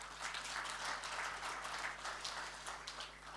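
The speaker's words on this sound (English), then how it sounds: "A big round of applause to you as well." Faint, distant applause from the audience at a high-level consultation meeting, a continuous patter of many hands over a low electrical hum.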